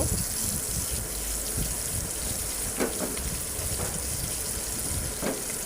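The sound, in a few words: onions frying in a pan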